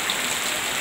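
Heavy flash flood water rushes through a village in Grobogan, Central Java, as a dense, steady roar of broadband noise filling the whole brief moment, with no voices.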